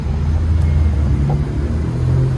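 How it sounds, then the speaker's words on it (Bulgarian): Steady street traffic close to the beach in Nice, France: a continuous low rumble of passing cars fills the background at a fairly loud level, with no talking over it. "Има много трафик, не знам дали се чуваме."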